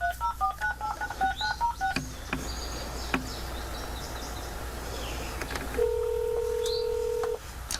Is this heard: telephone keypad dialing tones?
yes